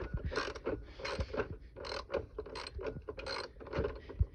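Wrench ratcheting with a rhythmic creaking clatter in repeated short strokes, close by, while removing engine parts from a Mustang 4.6.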